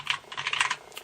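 Typing on an Apple A1243 wired USB keyboard with squishy keys: a quick close burst of soft clicking keystrokes, loud and alone.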